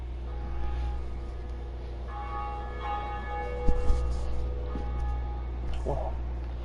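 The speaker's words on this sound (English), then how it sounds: "this is the first bell" In Dark Souls Remastered, a church bell tolls a few resonant strikes over a low droning ambience, with lingering metallic overtones and occasional brief clanks, moderately distant.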